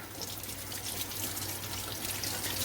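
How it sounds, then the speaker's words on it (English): Small whole white mushrooms rinsed under a running kitchen tap, a steady close hiss and splash of flowing water with no talk. "I'm just going to rinse them underwater"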